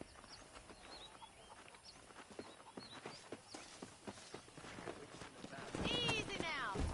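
Horses in the Red Dead Redemption video game clip-clop steadily at a walk, with a horse whinnying loudly near the end amid faint outdoor birdsong.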